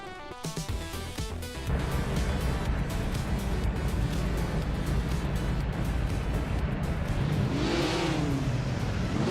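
Video game race cars, including a 1959 Maserati and a Ferrari, launching off the start line at Apricot Hill Reverse: a quick burst of revving, then a loud, dense engine roar that holds steady, with a rising whoosh of another car passing near the end.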